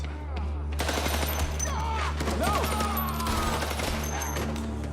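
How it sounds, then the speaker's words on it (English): Gunfire from a big shootout scene in the TV series Grace, dense bursts and crashes running throughout amid shouting voices and a steady low hum. "There's a huge shootout and Branson goes in, all guns blazing, and gets shot."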